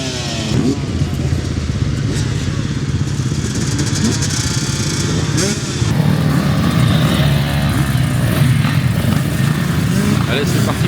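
Motocross motorcycles roaring together at the start of the first race of the weekend at a Racing Days event, a dense, steady engine din throughout that grows slightly louder midway, with a voice speaking over it.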